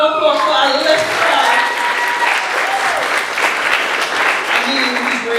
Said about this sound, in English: Another round of applause for Alyssa.